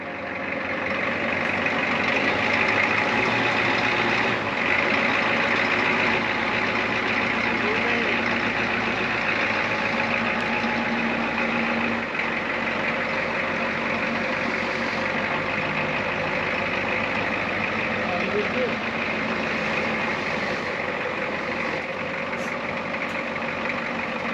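A 1984 Ford F250 with a 6.9L diesel engine runs steadily throughout, a continuous loud rumble with broadband clatter and no clear change in pace.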